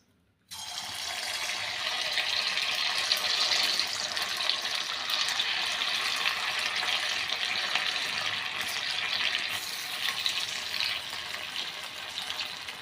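Fasting bhaji fritters fry in hot oil in a kadhai, a steady dense bubbling sizzle that starts abruptly and holds at an even, close level throughout, with no talking.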